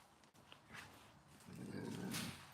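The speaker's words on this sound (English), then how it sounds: "Sorry about the dog" A dog growling faintly in the background, a low rumbling growl that swells toward the end with a couple of brief yips.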